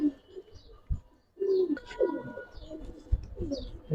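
Pigeons coo repeatedly in a loft of Giribaz and coloured fancy pigeons, with a pair of light-coloured birds among them; low, throaty coos come in several separate bursts, fairly close, alongside a few faint higher chirps.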